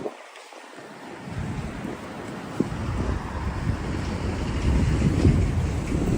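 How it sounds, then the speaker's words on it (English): Strong wind gusting along a Manhattan street in extreme winter cold, a broad roaring rush buffeting the microphone that builds steadily louder over several seconds, with no voices. "Ooh, that wind."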